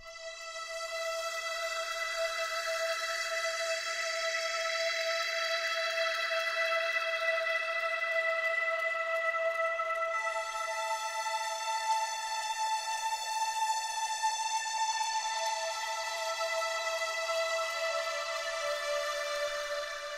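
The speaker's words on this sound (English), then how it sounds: "The next thing we bring in the intro here is this high string." A sustained high synth string pad in a 90s future jazz / downtempo intro holds bright chords, shifting harmony halfway through, smooth and steady with no low end.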